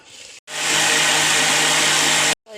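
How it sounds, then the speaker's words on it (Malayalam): An electric blender grinds grated coconut with water for coconut milk: a loud, steady motor whir that starts abruptly, runs for about two seconds and cuts off sharply. "പാകത്തിന് വെള്ളം ഒഴിച്ച് അടിക്കട്ടെ."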